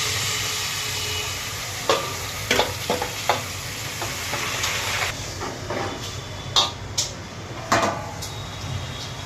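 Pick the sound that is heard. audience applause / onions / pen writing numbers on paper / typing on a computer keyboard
onions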